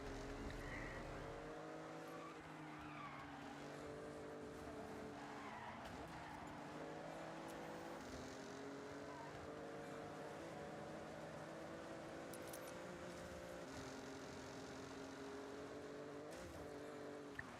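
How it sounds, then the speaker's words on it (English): An in-game car engine in Forza Horizon 6 drones steadily with rising and falling revs and brief tire-skid noises, continuous and fairly faint throughout. "Sounds like my engine's got a rattle,"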